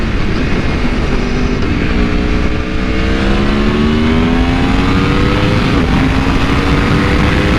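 An Aprilia Tuono V4 1100 Factory motorcycle, a 175-horsepower V4, revs loudly and close by, its engine note climbing steadily in a long continuous pull.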